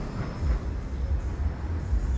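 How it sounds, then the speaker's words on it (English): A tram rumbles past on the Blackpool seafront, a steady low rolling rumble heard at moderate distance with no talk over it. "Oh, watch out, tram coming."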